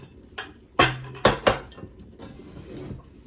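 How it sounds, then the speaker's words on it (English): A Dutch oven pot is handled in a kitchen, producing several close metallic clanks and knocks in a loose, irregular sequence, with lighter clinks in between. "I'll make it in the Dutch oven."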